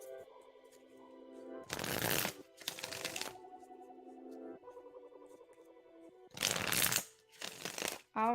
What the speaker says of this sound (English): We're shuffling for you now, of course.